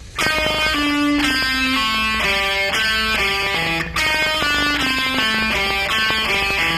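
A guitar plays a slow, descending pentatonic sequence of plucked notes, each phrase stepping down in pitch and then repeating, with no other sounds.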